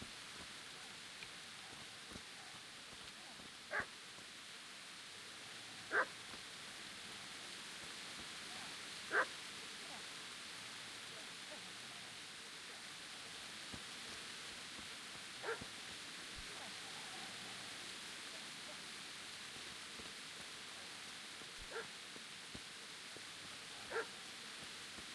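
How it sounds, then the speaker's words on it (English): A dog barks in the video game Kingdom Come: Deliverance, sparse short distant barks every few seconds over a steady outdoor ambient hiss. "I don't like the sound of that dog."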